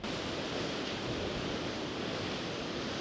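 Choppy sea waves break below the Brough cliffs on Orkney, making a continuous broad roar of surf mixed with wind noise, steady and fairly distant, with no voices.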